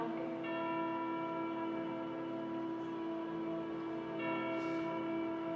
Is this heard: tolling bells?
yes